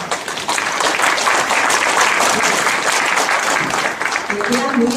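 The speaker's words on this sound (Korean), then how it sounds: "박수로 모시겠습니다." An audience at a knowledge concert greets the incoming speaker with loud, sustained applause that starts abruptly and holds steady as a dense, full-room patter of clapping.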